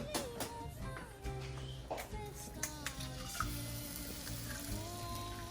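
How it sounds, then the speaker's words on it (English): Eggs crackle and sizzle in a hot pan for a breakfast sandwich, with soft clicks and handling noises scattered through a steady frying hiss. "now we're gonna put the eggs in"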